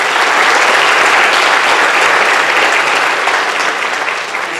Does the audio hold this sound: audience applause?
yes